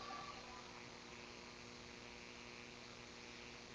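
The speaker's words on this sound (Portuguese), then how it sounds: "Estou escutando até o motor do ar-condicionado" A steady, low air-conditioner motor hum fills an otherwise silent room during a sermon, faint and unchanging with no voices over it.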